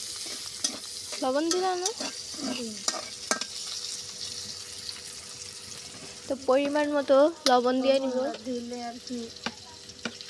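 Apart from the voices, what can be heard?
onions frying in oil in a pan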